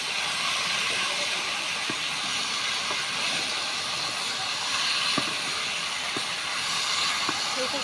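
A little water poured into a hot pan of curry with taro, eggplant, prawns and hilsa fish head, giving a loud, steady hiss of steam with occasional sharp ticks.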